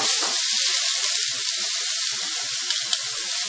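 Onions and green chili hit hot oil in a pan, producing a loud, continuous bright sizzle with small crackles popping throughout.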